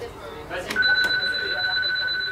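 A train's emergency alarm signal sounds as a steady, piercing high electronic tone. It starts about a second in and holds continuously over background noise.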